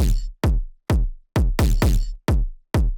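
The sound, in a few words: distorted phonk kick drums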